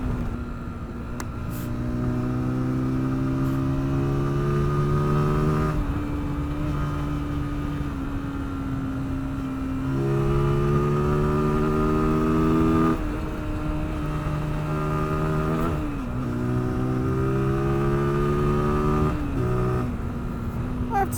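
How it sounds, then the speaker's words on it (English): Zontes ZT 125-U1, a small 125cc motorcycle engine under riding, revving through gears with rising pitch sweeps and shifts, steady and close over wind noise, with no talk. "I have to say, what a sweet little engine."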